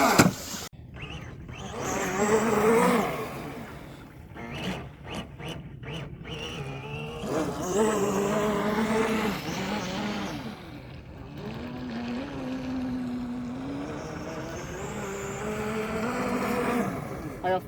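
A Sea Dagger model boat runs at full throttle on open water, its small motor whining and rising and falling in pitch over several passes, with voices nearby.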